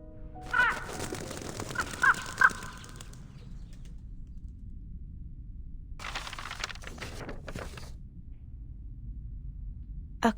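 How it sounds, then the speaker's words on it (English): A crow caws a few times, loud and close at the start, with a brief rustling burst afterward and quiet in between. "A crow?"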